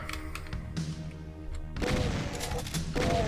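Gunshots in the video game Doom RL, a short string of sharp reports that grows louder and denser in the second half.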